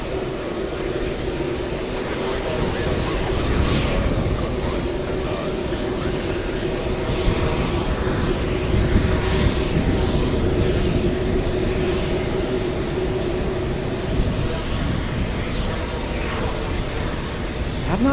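A Delta airliner on the runway gives off a steady, loud jet engine roar with a broad rumble that holds for the whole stretch, and no voices break through.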